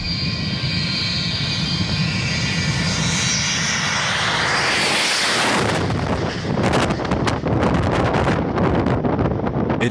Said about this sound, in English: this overweight Boeing 727 taking off too late from an airport in Colombia